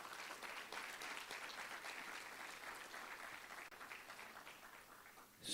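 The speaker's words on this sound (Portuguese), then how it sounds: "Vamos dar uma salva de palmas para o Senhor." A church congregation gives a round of applause during a sermon, a soft, steady wash of many hands clapping together that stays even throughout.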